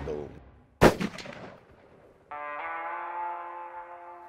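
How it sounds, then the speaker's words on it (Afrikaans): A hunting rifle fires one sharp, very loud shot near the Botswana border, then an echoing crack that decays over about a second. A faint voice comes before it, and a steady electronic tone follows. "Die skoot is bietjie laag"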